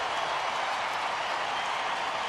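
Baseball crowd applauding as Bobby Abreu comes on deck, a steady, even wash of clapping and crowd noise with no clear peaks, held at a moderate distance for a couple of seconds.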